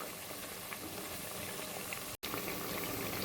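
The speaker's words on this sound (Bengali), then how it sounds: "এই যে ভাজা হচ্ছে কিন্তু হ্যাঁ মিডিয়াম লো ফ্লেমে দিয়েছি" Potato pakoras deep frying in oil over a medium-low flame give a steady, dense bubbling hiss that runs continuously at close range, broken by one very short dropout near the end.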